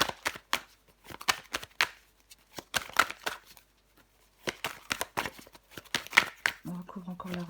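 Tarot cards handled while covering the Wheel of Fortune card: crisp, close flicks and snapping shuffles in quick irregular bursts, with brief pauses between handfuls.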